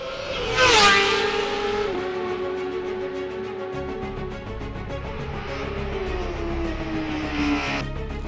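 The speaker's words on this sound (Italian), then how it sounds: "È il momento del debutto della Honda CBR 1000 RRR Fireblade, guidata da Massimo Roccoli" A Honda CBR 1000 RRR Fireblade superbike screams on a racetrack, its high-revving engine climbing through sharp gear changes in a sustained wailing note that rises and falls as it passes.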